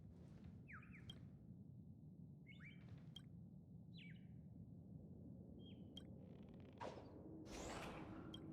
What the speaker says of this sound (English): hear a bird.